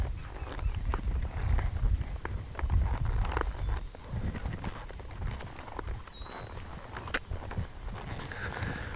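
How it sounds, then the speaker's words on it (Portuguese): A horse's hooves step slowly backward on the ground in uneven, close clip-clop footfalls, repeated through the stretch alone without talk. "Ricardo, eu toquei na voz e meu cavalo não entendeu que é para vir para trás"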